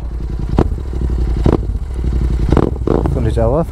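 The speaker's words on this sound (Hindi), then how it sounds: "एग्जॉस्ट आवाज बहुत अच्छा आता है" A GT650 motorcycle fitted with a Red Rooster exhaust rumbles deeply at close range on a road between Mussoorie and Rajpur, with the engine's throb running steadily under people talking.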